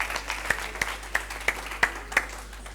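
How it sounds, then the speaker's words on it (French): Clapping at a French high school quiz competition, sharp distinct claps in a fairly regular rhythm over a low steady hum, sounding like a smaller group than a full crowd. "Applaudissez très très fort pour elle"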